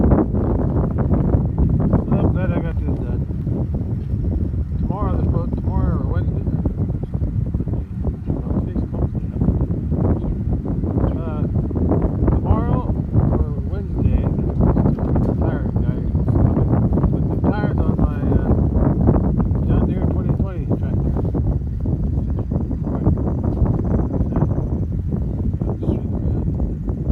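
Cool wind rushes steadily across the microphone at a fence line, a constant loud blustery roar throughout while people talk over it.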